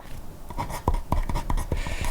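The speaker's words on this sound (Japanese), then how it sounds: "僕書いてる時にキュッキュって音が鳴るシャーペンすごく嫌で" A mechanical pencil writing on paper makes a close series of short, scratchy strokes with small squeaks, in an uneven rhythm of about eight quick marks.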